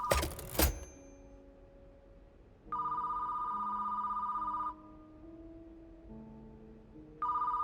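A telephone in the store-management game Hellmart rings with an electronic trill, one long ring and then the start of another after a pause, over quiet tonal game background.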